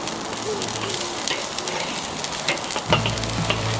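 Steaks searing on a hot grill give off a steady, close broadband sizzle with crackling pops throughout, growing a little louder near the end.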